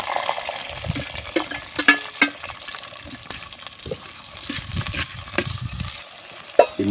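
Curry leaves, chopped onions and green chillies frying in hot oil for a mutton dish, a steady crackling sizzle with scattered sharp pops and stirring clatter, close up and continuous, with no talking.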